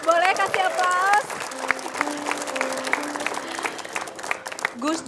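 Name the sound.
studio audience applause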